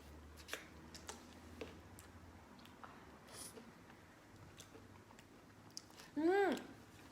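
Chewing on Baskin-Robbins ice cream from a variety pack, including pistachio and cheesecake flavours, heard as soft close mouth sounds with faint background noise and a brief louder burst near the end.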